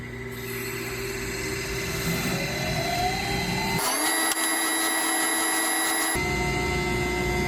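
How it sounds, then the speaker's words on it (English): A spinning Scotch-Brite wheel cleans up a piece of scrap silver freshly melted with a torch: a steady, close motor whine that deepens and roughens midway as the metal is pressed against it, then eases back. "I'm gonna clean it up with a wire wheel real quick. Or actually a Scotch-Brite wheel."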